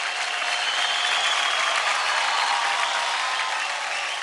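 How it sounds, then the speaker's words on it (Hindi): Loud, dense applause fills a televised dance competition stage for the performer Cockroach, a steady roar of clapping from the audience with no break throughout. "जोरदार तालियां हो जाए क्रॉकरोच के लिए।"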